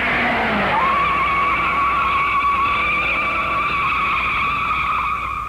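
A race car at the 1956 Indianapolis 500 sweeps through a corner with rookie Jack Turner driving, its tires skidding and squealing in one long sustained whine over a loud engine that holds steady from start to finish.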